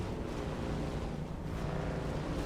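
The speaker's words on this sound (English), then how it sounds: "That didn't even sound like exhaust sound, that just sounded like straight motor." A loud vehicle motor in Dune: Awakening drones steadily and close for the whole stretch, a dense low rumble with wind-like noise on top and no exhaust crackle.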